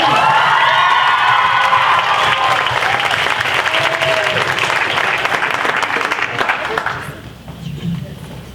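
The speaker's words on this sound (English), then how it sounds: "can we have a huge round of applause for Miss Amy Liss?" Loud audience applause mixed with cheering and shouts at a camp event fills most of the stretch, then drops away near the end, leaving a few scattered voices.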